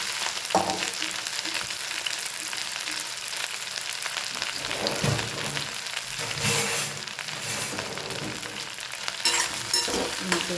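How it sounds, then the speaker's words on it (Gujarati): Okra frying in oil in a pan over a low flame, a steady bright sizzle and crackle running throughout with small stirring bumps, close and continuous with no talking. "બસ આને ધીમા ગેસ આપણે પહેલાં 15 થી 20 મિનિટ એકદમ પાકી જાય ત્યાં સુધી ફ્રાય થવા દઈએ"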